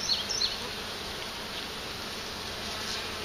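A dense, steady buzzing of many honey bees in a healthy hive, close and continuous, with a couple of brief louder passes near the start.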